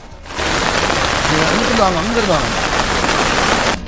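Heavy rain pours in a dense, steady hiss throughout, with a voice speaking briefly over it in the middle.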